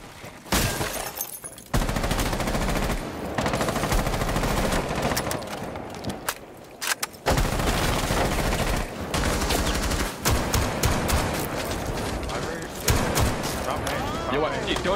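Rapid bursts of automatic gunfire and shots ring out in the video game Rainbow Six Siege, loud and nearly continuous for most of the stretch, with players talking over the shooting.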